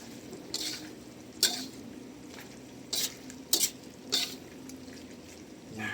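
A spoon stirring margarine and garlic in a pan, heard as faint scraping over a soft sizzle, with several sharp clinks of utensil against metal spread across the few seconds.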